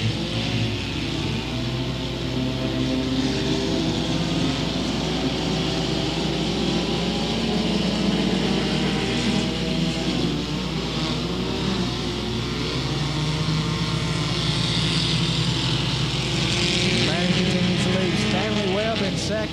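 Front-wheel drive race cars roar off the green flag at the start of a feature race at Crossville Raceway, a dense, sustained wall of revving engines running throughout, with commentary talking over it.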